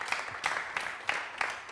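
Audience on a French-language TV show applauds in a steady, moderate wash of clapping, with slightly louder swells recurring about every third of a second and no speech over it.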